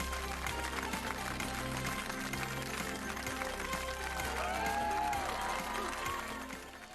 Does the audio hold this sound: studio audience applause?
yes